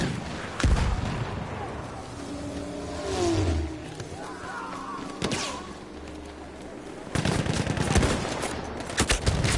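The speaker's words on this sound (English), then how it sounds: "Machine gun!" Machine gun fire in the video game Battlefield 1, with sharp bursts of shots breaking out over a rumbling battlefield and engine noise, including a dense, loud volley near the end.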